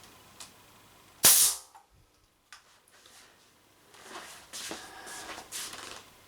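A single sharp shot from a 31-grain pellet gun, fired at an angle, then quiet and faint handling and rustling sounds afterward.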